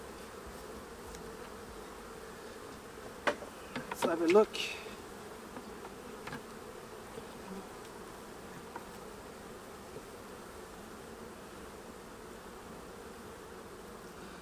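Honeybees buzzing steadily around an opened hive holding a frame of brood, a faint continuous drone with a few louder close passes, and a person speaking briefly.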